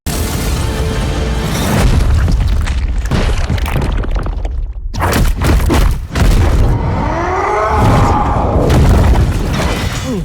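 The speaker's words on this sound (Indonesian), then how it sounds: "hingga terjadi ledakan yang dahsyat." Huge explosion during a superhero fight in a He-Man film: loud booming blasts and crashing debris fill the whole stretch, with a brief drop near the middle, then a sweeping roar toward the end.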